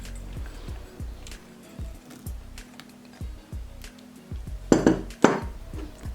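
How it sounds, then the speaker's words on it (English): Raspberries go into a cooking pot as a run of soft, low, close thuds at an uneven pace, followed near the end by two brighter clinks against the pot. "I'm gonna put in a pot the fruits."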